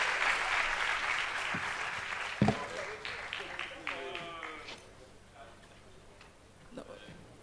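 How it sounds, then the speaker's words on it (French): Audience at a panel session of a web festival applauds, a burst of clapping that quickly thins out into scattered claps, with a few sharp knocks and a voice speaking in the middle. "Applaudissez fort, c'est grâce à elle qu'on a ce panel."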